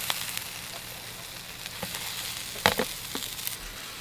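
Steady sizzling of salmon frying in hot oil at a wild campsite in Scotland, with a few louder spatters and scrapes of a utensil near the end.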